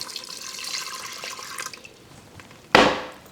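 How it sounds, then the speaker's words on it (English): A splash of milk is poured into a pot for Greek pastitsio, a soft watery trickle followed by a sudden loud splash near the end, heard close with quiet kitchen hiss before it. "And we're just gonna add a splash of milk."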